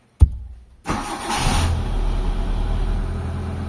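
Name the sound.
Mitsubishi Lancer engine cold start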